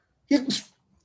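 One quick, close sneeze with a breathy two-part burst comes from a person in an indoor podcast setting, heard alone against silence.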